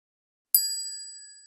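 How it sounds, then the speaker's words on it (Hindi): In a Python pygame snake game, a single bright bell chime strikes once, then rings out with a clear, sustained tone that slowly fades away. "घंटी तो अब बज रही है"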